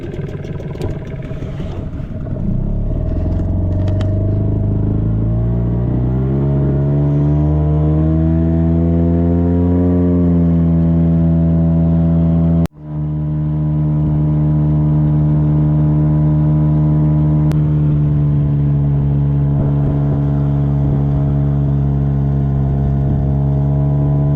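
An outboard motor on a fishing boat out after pike, running steadily and loud close by, its pitch climbing as it speeds up, then holding a constant drone with a brief dip midway.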